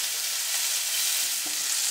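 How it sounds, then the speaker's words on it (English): Salmon fries in melted butter in a pan with a steady, bright sizzle and soft crackling close by, plus a couple of faint clinks, with no voices. "And so I'm going to add another piece of butter, another tablespoonful in there. Let that melt"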